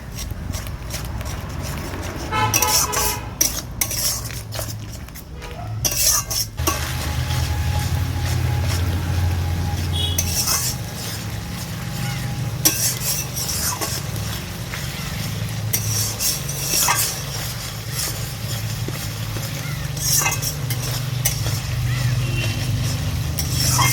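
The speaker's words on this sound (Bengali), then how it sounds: "কাঁচা লঙ্কাগুলো দিয়ে দিলাম। সব কিছু ভালো করে কষিয়ে নিচ্ছি।" Okra masala with green chillies sautéing in a pan, with intermittent scraping and stirring strokes over a low, steady background hum, fairly quiet overall.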